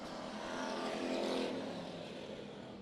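American stock cars roaring off at the green flag in a heat race at Bakersfield Speedway, a dense, steady engine drone from the pack that swells slightly midway and then eases.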